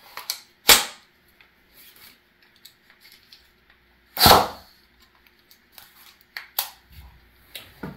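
A CO2 less-lethal home defense launcher, the Silver Banshee, fires a 16 gram shot as a sharp, loud crack, with another strong report a few seconds later and quieter clicks and handling sounds between.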